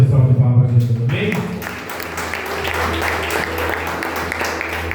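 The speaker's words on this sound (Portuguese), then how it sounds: "Dê uma salva de palmas para Jesus." A church congregation applauding during an evening worship service, broad steady clapping that follows a brief spoken phrase at the start and continues at a moderate, even level with music or talk faintly underneath.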